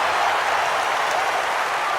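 Crowd in the golf video game EA Sports PGA Tour at the Waste Management Phoenix Open cheering and applauding, a dense, loud, continuous roar of claps and voices filling the whole moment.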